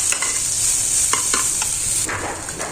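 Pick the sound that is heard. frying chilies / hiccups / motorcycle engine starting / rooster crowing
frying chilies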